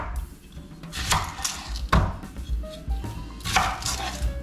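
A knife chops through an onion at a camp cook site, giving a handful of sharp, close knocks against a board spaced at irregular intervals over low background rumble.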